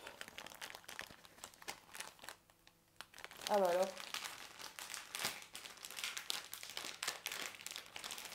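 Crinkling and crumpling of plastic packaging from a cross-stitch kit being handled and torn open, close up, with a brief spoken exclamation in French partway through.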